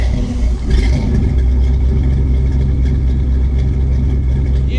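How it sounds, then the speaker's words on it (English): A 1964 Oldsmobile Starfire's V8 catches and revs, a loud, close rumbling engine that settles into a sustained deep roar after a brief start-up surge. "Listen to this V8 roaring engine."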